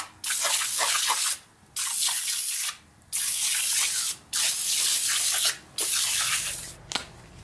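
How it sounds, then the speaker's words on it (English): A can of foaming engine degreaser hisses in five loud, close bursts of spray onto a Honda B-series transmission, each a second or so long, separated by short pauses, the last trailing off. "spray some of this engine degreaser"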